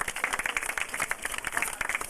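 A trainer at an outdoor dolphin show on Oahu or Maui claps his hands in a run of quick, sharp claps, moderately close, with light crowd noise behind.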